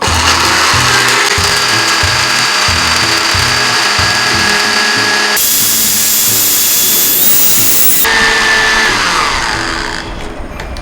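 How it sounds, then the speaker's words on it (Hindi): Electric grinder grinding tikka boti masala spices: a loud, continuous motor whine with a rattling start, cutting out briefly midway and then resuming before winding down at the end. "टिक्का बोटी मसाले के तमाम इंग्रेडिएंट्स को मैं ग्राइंडर में डाल के अच्छे से बारीक पीस लूंगी।"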